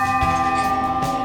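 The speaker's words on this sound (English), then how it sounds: "at the end of the song, they'd ring the bell" A bell rung at the Station Inn bar at the end of a song gives a loud, close, sustained ringing tone that holds steady throughout.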